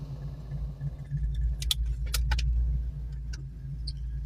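A manual-transmission project car idles with a low, steady engine rumble as it pulls away in first gear, with a few light metallic clicks and jingles over the top.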